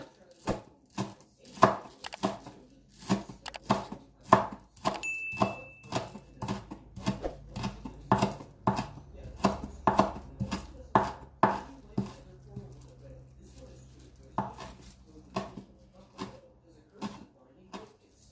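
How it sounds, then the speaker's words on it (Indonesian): Spring onions sliced with a knife on a cutting board for a tofu martabak made with spring roll wrappers: steady, fairly rapid chopping strokes close up, pausing briefly near the end, with a voice speaking over parts of it. "Jadi ini daun bawang ya. Ini dipotong jangan terlalu kecil ya."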